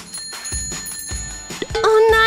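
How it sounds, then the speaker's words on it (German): A doorbell rings in a household scene, a bright repeated electronic chime with several quick strikes and a sustained ringing tone at the end, mixed with voices talking and some background clatter. "Oh nein, die Türklingel."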